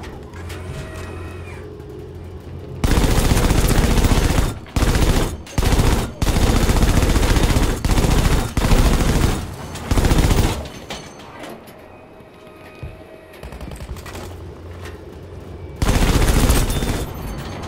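Anti-aircraft tank guns in Battlefield V fire loud, sustained rapid bursts, broken by short pauses. The fire stops for a few seconds, then a final burst comes near the end.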